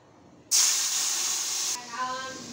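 Fish without scales dropped into hot mustard oil in a pan, with a sudden loud, sustained sizzle bursting in and running about a second and a quarter, then easing to a softer crackle with faint bubbling.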